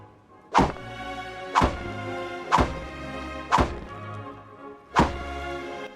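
Spears striking a base window in the video game Rust: five loud, hollow thunks spaced about a second apart, each a sharp hit with a short resonant ring, no voices.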